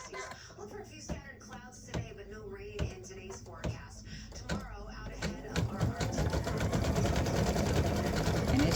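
An embroidery machine stitches a heart in bright pink thread on the top of a hat, a close, rapid rhythmic clatter of needle strikes that starts in bursts under a voice and then runs continuously.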